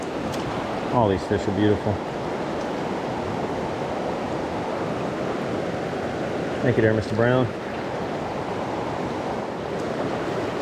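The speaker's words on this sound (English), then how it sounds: "You can see this white water coming down" Fast, waist-deep whitewater in a Catskill Mountains trout stream rushes in a continuous close hiss, with someone speaking briefly over it twice.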